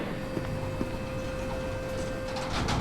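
A heavy metal gate in SCP: Secret Laboratory opening or closing, a steady mechanical grinding hum with a sustained tone and faint clunks, rising slightly at the end.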